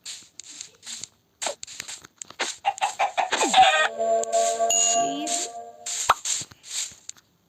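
Short clucks and plopping effects from chickens in a survival video game pop up in bursts, mixed with bright synthetic tones, fairly quiet with brief pauses between.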